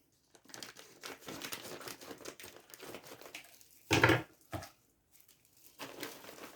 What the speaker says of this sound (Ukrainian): А зараз розрізаємо ось цей пакет і дивимося, що там всередині